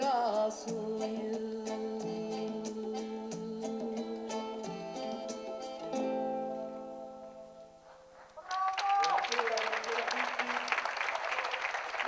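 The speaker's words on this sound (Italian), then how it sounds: "ma un applauso un po' più forte" Applause breaks out at a concert in a theatre after sustained musical notes fade, the clapping loud and dense from a full audience in a hall.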